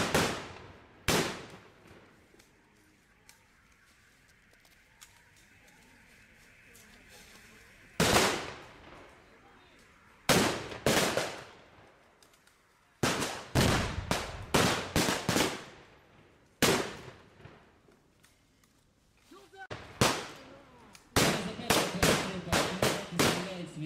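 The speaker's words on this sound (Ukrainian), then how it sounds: "Знову б'є гармата." Loud cannon booms and bursts of gunfire crack in irregular clusters, some shots rapid and close together, with quiet gaps between volleys outdoors at a battle reenactment by the Citadel in Lviv.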